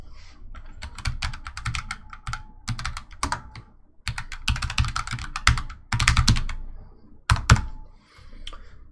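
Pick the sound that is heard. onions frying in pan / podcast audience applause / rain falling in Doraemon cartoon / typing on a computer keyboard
typing on a computer keyboard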